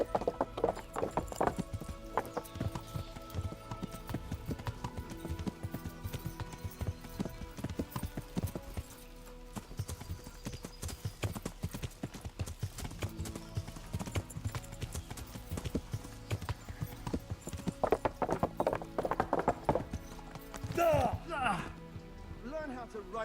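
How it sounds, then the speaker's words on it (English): A horse gallops steadily in the medieval game Kingdom Come: Deliverance, with rapid, continuous hoofbeats close by and a brief whinny near the end. "Learn how to ride a horse"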